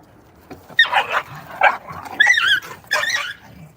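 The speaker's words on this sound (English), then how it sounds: "Dogs being dogs." Dogs bark in a short burst of about four loud, close yaps, spaced unevenly over a few seconds with quiet gaps between, no talking over them.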